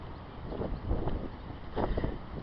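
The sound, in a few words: heavy wind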